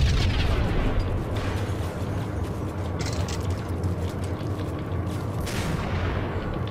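Shotgun blasts in the Max Payne video game boom out in heavy, echoing bursts, several loud shots spaced a second or two apart over rumbling background noise.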